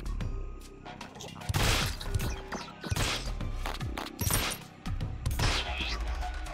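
Enemy sacks in the Blazing Beaks video game fire shots, a run of sharp bursts and impacts spread across several seconds, mixed with other busy game effects.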